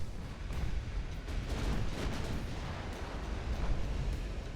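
Naval shellfire in the warship game UAD, heard as a dense, rumbling wash of distant gun blasts and shell impacts rolling together over a steady low roar of sea and battle.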